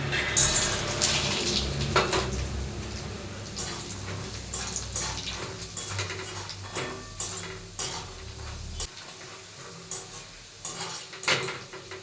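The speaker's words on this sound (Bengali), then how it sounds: "প্রথমে গোটা বাদাম আমরা ভেজে নেব।" Whole peanuts frying in oil in a kadai as the first step of a sabudana upma, heard as a metal spoon repeatedly scraping and clattering against the pan over a low sizzle, close and steady for several seconds.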